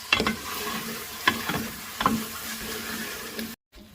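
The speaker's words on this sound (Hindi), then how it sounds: "फिर मज़ीद हम इसे 5 मिनट तक भूनेंगे।" Spice masala for chicken karahi, with chillies and turmeric, fries in a karahi as a spoon stirs it, giving a steady close sizzle broken by a few sharp scraping knocks. No one speaks.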